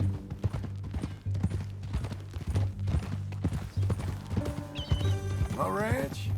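Horse hooves in Red Dead Redemption 2 clip-clop at an even walking rhythm, close and clear throughout, while voices talk over them and a horse whinnies near the end.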